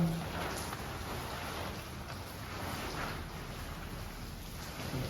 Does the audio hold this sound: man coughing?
no